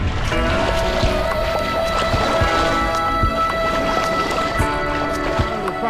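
A sailboat with a nearly new sail heels over as it heads out onto open water. Wind and water rush loudly and steadily up close, with scattered knocks and creaks of the boat's rigging.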